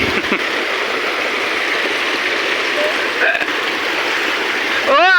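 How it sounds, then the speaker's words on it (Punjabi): Water rushing steadily from the opened gates of the Pong Dam, a continuous broadband roar that stays loud and even throughout, with a voice briefly heard near the end. "ਆ ਗਿਆ ਪਾਣੀ ਆਹੋ ਉਹ ਡੈਮ ਦੇ ਗੇਟ ਖੋਲਦੇ ਆ ਇਹ ਪੌਂਗ ਦੇ ਖੁੱਲੇ ਗੇਟ"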